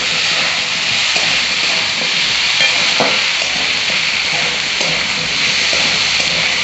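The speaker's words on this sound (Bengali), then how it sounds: "আর একটু আমি ভাজা ভাজা করে নেব।" Potatoes fry with turmeric in a pan, giving a loud, dense, continuous sizzle up close with a few faint scraping touches and no talking.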